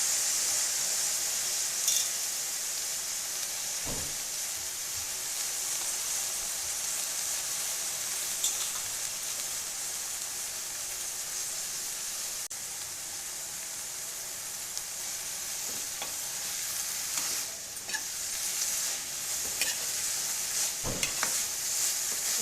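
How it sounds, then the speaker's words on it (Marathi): Amaranth and cowpea leaf curry cooks in a pan while being stirred and mixed, giving a steady soft sizzling hiss with occasional scraping taps of the spoon. "चांगलं मिक्स करून घेऊया आपण"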